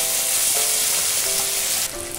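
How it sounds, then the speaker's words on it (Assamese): Fish pieces frying in hot oil for fish curry, a loud, continuous close sizzle with crackling spatter, easing slightly near the end. "এয়া মাছৰ কালিয়াৰ বাবে মাছ ফ্ৰাই কৰি থকা হৈছে"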